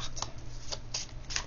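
A tarot card is drawn from the deck: a few soft, papery swishes and flicks, short and close, over quiet background hiss.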